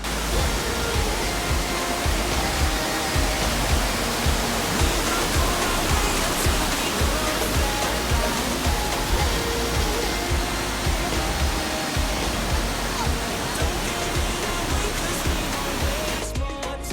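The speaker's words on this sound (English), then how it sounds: "See the waterfall there?" A waterfall in Germany roars as a dense, steady rush of falling water, loud and unbroken throughout with no let-up.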